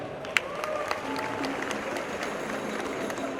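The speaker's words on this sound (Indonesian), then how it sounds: "Tepuk tangan untuk ayah saya" A comedy show audience claps steadily for a few seconds, a dense, even patter of applause with one sharp clap standing out near the start.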